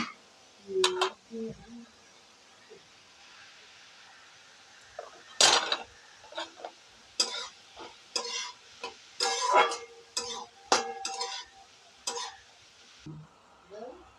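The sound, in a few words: stirring pineapple chutney in a pan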